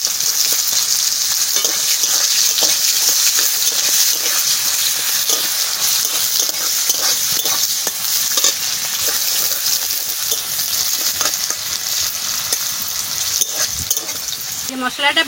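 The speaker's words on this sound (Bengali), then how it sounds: "জিরা দিয়ে দিচ্ছি, পেঁয়াজ দিয়ে দিচ্ছি" Cumin seeds and onions sizzle steadily in a hot pan of oil, a dense crackling hiss with light stirring clinks throughout, close and loud.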